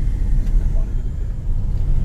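A GLI car drives up a mountain road through pine country, a loud, steady low engine and road rumble heard from inside the vehicle.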